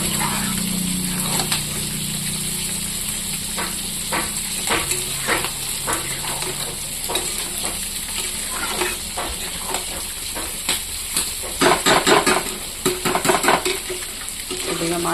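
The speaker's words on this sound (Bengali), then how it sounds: "এদিকে মাছটা আমার ভাজা হচ্ছে, আর এদিকে সবজিটাও ভাজা হয়ে গেছে।" Fish and radish vegetables fry in a pan, a steady bubbling sizzle broken by repeated spatula scrapes and clinks against the metal, growing busier toward the end.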